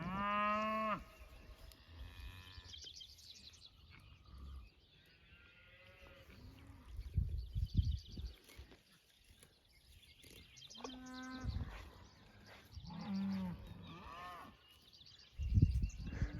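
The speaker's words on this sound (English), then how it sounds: "Right now they're bawling because we haven't moved them yet." South Pole heifers and other cattle bawling in a grass pasture, several loud, drawn-out moos from different animals, some near and some farther off, with quiet gaps between calls.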